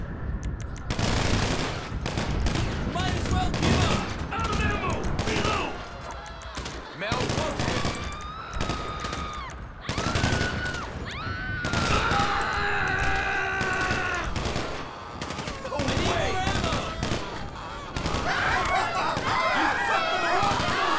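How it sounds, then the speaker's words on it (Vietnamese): Unsilenced gunfire in a GTA 5 zombie mod: repeated loud bursts and volleys of shots with short gaps between them, over the game's background noise, while people talk throughout. "Nãy giờ nó bắn bồ tôi, mấy thằng này nó không có nồng giảm thanh"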